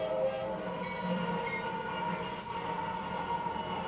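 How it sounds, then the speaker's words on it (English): Steady rumbling train noise from the Trainz game, with rail clatter, continuous and fairly loud throughout, no voices. "that's just train noise"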